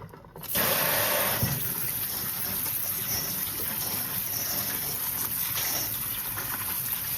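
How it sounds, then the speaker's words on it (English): Cold tap water runs steadily over boiled pigtail in a kitchen sink, a continuous loud rushing splash that starts abruptly after a brief quiet moment and carries on without a break. "going to rinse it with some cold water"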